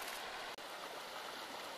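Goat Creek flowing in winter beneath a cover of snow and ice, a faint, steady trickling rush of water with one brief dip partway through and no voices over it.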